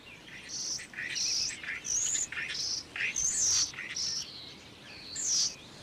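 Busy starling song of rapid chirps, whistles and rattling notes in quick bursts, fairly close and clear over quiet background.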